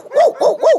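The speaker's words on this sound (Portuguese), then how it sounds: "O cachorro," A dog in an animated animal story gives three quick, close yapping barks in an even rhythm, with no talking.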